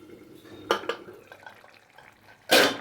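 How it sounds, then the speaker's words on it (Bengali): A pot of drumstick and potato curry is stirred, with a couple of utensil clinks, and then a lid goes on with a loud clattering clank at the end, close and without any talk. "আমি একটু নাড়াচাড়া করে আবারও ঢাকনা দিয়ে ঢাকা দিয়ে দিলাম"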